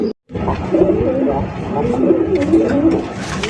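Black Rasgolla fancy pigeons coo nearby in low, throaty, rolling calls that repeat steadily over a dense background murmur.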